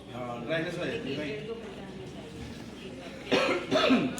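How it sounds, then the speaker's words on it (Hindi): A person with a dry throat at a seminar gives two close, loud coughs near the end, following a stretch of quieter voiced sound. "नहीं, मेरे को एक्चुअली खांसी हो ही रही है"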